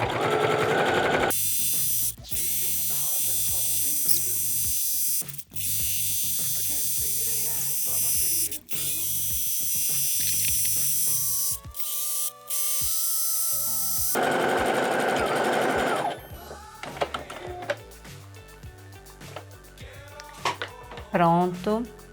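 A sewing machine runs fast in long, loud bursts with brief stops while stitching yellow thread on a desk organiser, later giving way to quieter, intermittent sounds and clicks.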